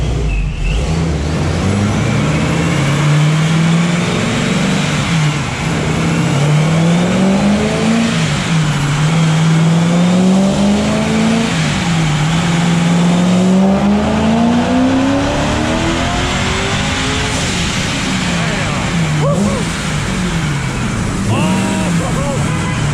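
A 1000+ hp car runs a dyno pull on pump gas, its engine revving loud and close in long rising and falling sweeps that build to a sustained high-rpm roar before easing off.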